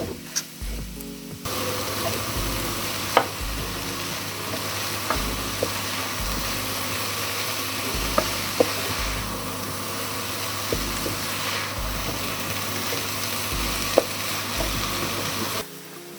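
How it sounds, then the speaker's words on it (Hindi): Mixed vegetables stir-frying in a pan for samosa filling, a steady broadband sizzle running throughout with faint periodic scraping of the spatula, no voices. "इसकी बुनाई हमने तब तक करनी है जब तक कि ये पानी खुश्क ना हो जाए"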